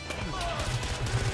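Gunfire from the Far Cry 4 video game, set in Kyrat, rattles as a dense run of shots during a firefight, running steadily under excited voices talking throughout.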